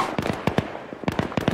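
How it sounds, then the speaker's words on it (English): Rapid cracking bursts of a rocket blast and debris in Battlefield 3's Gulf of Oman map, two tight clusters of sharp pops close by and loud, with no speech. "They just missed a rocket."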